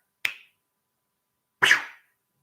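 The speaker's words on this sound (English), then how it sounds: "The reason why I snap my fingers" Two sharp finger snaps, close and clear, spaced more than a second apart against silence.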